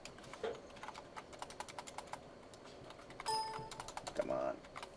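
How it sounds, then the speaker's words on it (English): A computer keyboard clatters in rapid, irregular keystrokes up close, with a couple of brief tonal chimes and some speech mixed in. "I'm messing up typing it"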